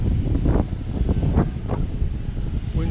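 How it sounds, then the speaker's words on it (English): Outdoor wind picks up and buffets the microphone in loud, uneven gusts, with rustling noise and low rumble throughout. "Wind's picking up nicely now,"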